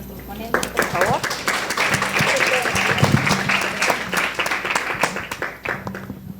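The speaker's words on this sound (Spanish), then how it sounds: "Les brindamos un fuerte voto de aplausos a nuestros ponentes" Audience applause for speakers at the close of an audiovisual conference, scattered claps building into steady clapping, with a voice speaking over it throughout.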